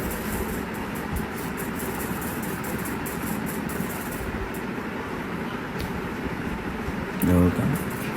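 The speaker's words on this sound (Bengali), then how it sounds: "আস্তে আস্তে ট্রেনের গতি বাড়তেছে।" A train slowly gathers speed as it leaves Chittagong railway station, heard as a steady, moderately quiet low rumble of rolling carriages, with a brief louder bump near the end.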